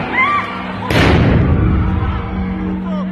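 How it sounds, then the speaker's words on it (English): A stun grenade fired by police goes off with a sudden loud bang and a rumbling tail inside the Al-Aqsa Mosque compound, amid shouting and a crowd of worshippers. "Israeli police fire stun grenades to disperse Muslim worshippers"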